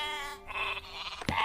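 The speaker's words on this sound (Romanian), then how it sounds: "Domnișoară, oile!" A single sheep bleats in a sustained, wavering cry, close and loud, briefly ending in a sharp click.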